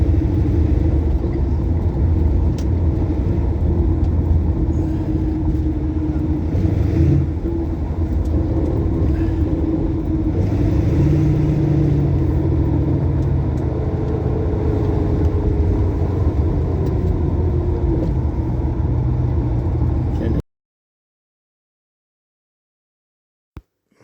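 A car held in second gear while driving through a roundabout, a steady low engine rumble with road noise heard from close by for about twenty seconds, then cutting off abruptly into near silence.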